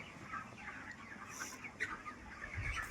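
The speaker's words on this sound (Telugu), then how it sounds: "ఇవన్నీ మేయేనా కోళ్ళు?" A flock of chickens and chicks at a farm during loading clucks softly and continuously, faint and somewhat distant, with scattered brighter calls and no talking.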